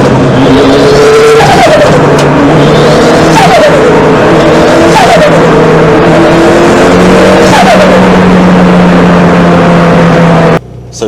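A 3S-GTE Corolla sleeper running methanol fuel roars loudly at close range, engine revving steadily with repeated rising and falling turbo chatter and boost flutter before cutting off abruptly near the end.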